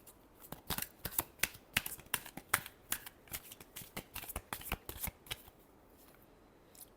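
Tarot cards being shuffled by hand in a final shuffle, a quick run of crisp riffling flicks and slaps, close and fairly loud, tapering off near the end with no talking.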